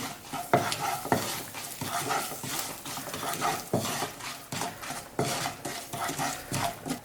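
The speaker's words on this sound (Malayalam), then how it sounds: "ഇനി നന്നായിട്ടൊന്ന് മിക്സ് ചെയ്ത് കൊടുക്കാം" A spoon stirs Kerala sambar in a cooking pot, with repeated scraping and clinking strikes against the metal at an uneven rhythm, close and fairly quiet, a faint sizzle beneath.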